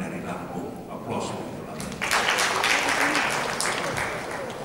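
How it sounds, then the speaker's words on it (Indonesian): An audience at a provincial development-planning talk show in Lampung breaks into applause, swelling loudly about halfway through and holding steady as a dense wash of clapping, with voices underneath. "Aplaus."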